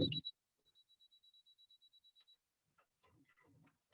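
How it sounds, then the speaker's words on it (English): A computerized sewing machine gives a rapid run of identical short electronic beeps, about a dozen evenly spaced, after a brief mechanical thump; quiet voices murmur near the end. "So I have a computerized machine and that's why it's beeping at me."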